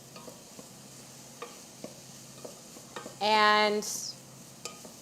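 Onions and garlic toast in a soup pot, a quiet sizzle broken by soft, regular stirring taps of a utensil, close by, with a brief louder scrape near the end and a single spoken word.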